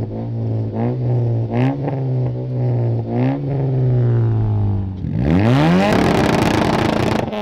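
A 2022 Nissan Sentra with an upgraded exhaust revs loudly and close outside, rising and falling in pitch a few times before a sharp, louder throaty rev at the end.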